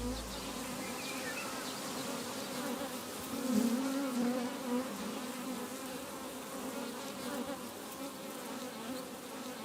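A dense, steady drone of many honeybees buzzing close by around hives in Focșani, Romania, continuous and low, swelling slightly at moments.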